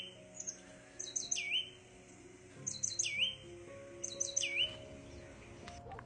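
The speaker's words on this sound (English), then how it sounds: "The Oak Titmouse is very cute." Oak titmouse giving repeated bright, high chirps and short whistled notes in three separate bursts over a few seconds, fairly close and clear above a quiet outdoor background.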